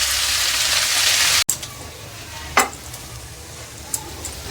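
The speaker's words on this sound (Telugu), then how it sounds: "ఇదంతా వేపుకోవాలి మనం." Ingredients for mint chutney frying in a little oil, a loud hiss that suddenly cuts off, followed by quieter crackling and a few sharp stirring clinks.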